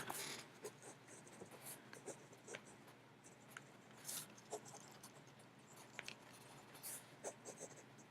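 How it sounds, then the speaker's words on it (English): Someone writes by hand with a pen on paper, making faint scratches and small taps in an irregular rhythm, close by, with no talking. "I'm going to write that down."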